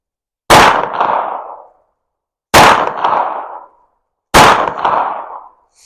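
A Hi-Point .40 S&W carbine fires three loud, sharp shots at 15 yards, each a sudden crack with a short ringing tail, spaced about two seconds apart, with silence between.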